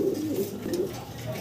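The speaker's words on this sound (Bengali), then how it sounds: "এই যে একটা ককার মাদি খুব সুন্দর ডাকে" Pigeons at a pigeon market give low, rolling coos, several overlapping calls in steady rhythm close by against a busy background.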